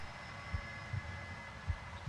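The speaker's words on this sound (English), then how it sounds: "Sound of my heartbeat." In the video game The Long Dark, a low, muffled heartbeat thumps about four times in a slow, steady rhythm over a constant droning hum.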